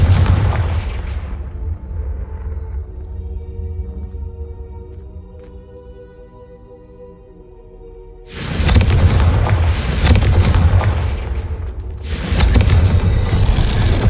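A Confringo fire spell in the video game Hogwarts Legacy: a deep boom opens, a quiet humming stretch follows, then a loud run of crackling blasts and booms near the end.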